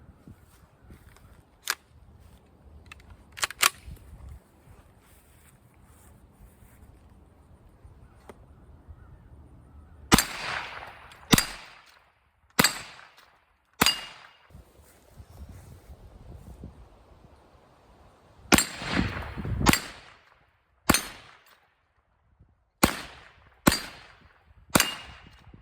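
A 10mm MechTech carbine fires about a dozen sharp, echoing shots outdoors, a few spaced early and then a steadier string of cracks with ringing tails between short pauses.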